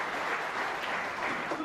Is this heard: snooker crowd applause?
yes